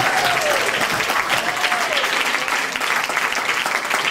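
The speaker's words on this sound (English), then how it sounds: "I think we need another big round of applause." An audience at a school event gives a big round of applause, loud continuous clapping from a crowd throughout, with a few faint whistles riding on top.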